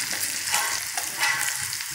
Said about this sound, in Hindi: सभी चीज़ों को यहाँ पे हम फ्राई कर लेंगे।